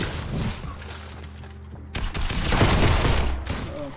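Gunfire in a Fortnite match, dense and continuous, with overlapping shots and impacts forming a loud fusillade that grows busier in the second half, with no clear speech over it.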